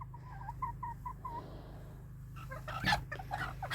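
A rooster clucks softly in a quick rhythmic series, then a louder squawk and rustling follow, all against a steady low hum.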